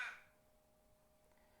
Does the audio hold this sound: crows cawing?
yes